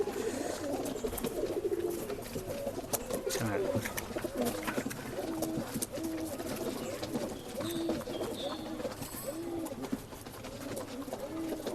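Rekdhar pigeons offered for sale in Bangalore coo steadily in repeated throaty phrases, close and fairly clear, while someone talks over them throughout.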